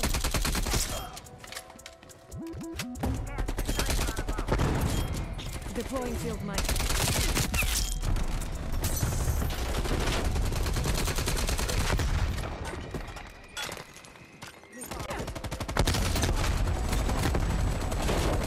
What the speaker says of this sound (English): That's a good SMG.